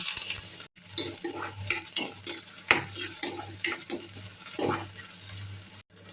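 Thinly sliced onions frying in oil in a pan after tempering seeds have spluttered, a steady sizzle under repeated scraping strokes of a spoon stirring against the pan.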